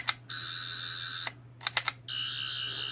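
A Character Options classic Doctor Who sonic screwdriver toy from the Tom Baker era gives off a steady high electronic whirring tone, then a few sharp button clicks, then the tone again, close and alone.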